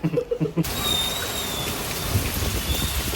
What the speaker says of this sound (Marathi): पाऊस लय वाईट आहे बरं का.